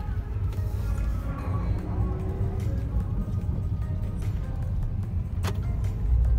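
A car with newly replaced engine mountings hums quietly and evenly from inside the cabin, a low steady drone with a few faint clicks and no talk.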